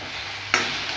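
Tomatoes and spices roasting in a pan for misal give a constant close sizzle, with a sudden louder burst of crackle halfway through as something is stirred or added.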